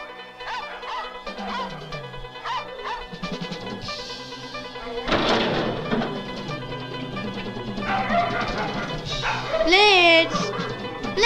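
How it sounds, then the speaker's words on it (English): A dog barks, yips and whimpers repeatedly in short bursts throughout, fairly close, mixed with people talking and background music. "make him stop barking"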